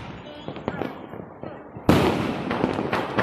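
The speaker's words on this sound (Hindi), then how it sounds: "पटाखा अच्छे से फट रहा है।" Firecrackers burst on Diwali night: scattered sharp pops and bangs, then a loud close blast followed by dense, continuous crackling.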